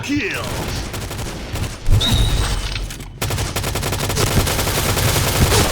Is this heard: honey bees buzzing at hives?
no